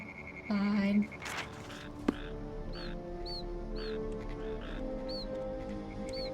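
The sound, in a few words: vulture cry sound effect in video game Ultima 9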